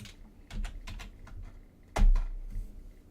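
Keystrokes on a computer keyboard while entering a value into trading software: a quick run of close, crisp clicks, then a louder clustered tap near the end, with no voices over them.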